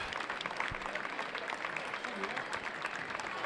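Steady, dense applause from a large outdoor crowd at a Memorial Day parade in Dunkirk, New York, honoring the grand marshals, continuous and fairly distant throughout.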